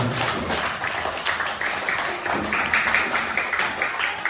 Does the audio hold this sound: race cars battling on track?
no